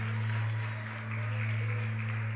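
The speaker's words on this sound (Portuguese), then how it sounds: "Os que podem, tomem o seu assento aplaudindo a Jesus, porque Ele é bom" A church congregation claps along during a worship service, the applause steady and moderately loud over sustained low keyboard tones, with no speech.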